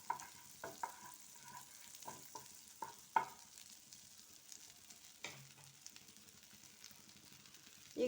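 Butter sizzles at medium flame in a pan still coated from fried vegetables, a soft steady fizz with scattered stir clicks and small pops, close by with no talking.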